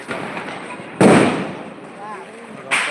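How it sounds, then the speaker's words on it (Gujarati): Firecrackers burst during a festive outdoor celebration: two sharp, loud cracks land about two seconds apart, with voices in the background. "ફટાકડા ફોડી રહ્યા છે જો ફટાકડા"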